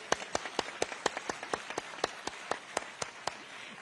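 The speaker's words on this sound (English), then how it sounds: "Please give her a big round of applause." Sparse, scattered clapping from an audience at a French presidential event at AIIMS, India, with sharp individual claps spread evenly across the clip, fairly quiet and distant, with no talk over them.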